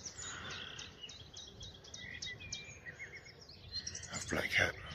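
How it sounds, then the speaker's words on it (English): A blackcap singing in early morning at RSPB Rainham Marshes: faint, rapid warbling phrases repeated over a soft background of insects, with low murmuring near the end. "Blackcap."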